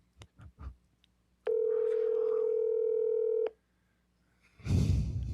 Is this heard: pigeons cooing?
no